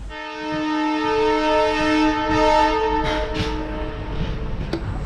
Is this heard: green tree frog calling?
no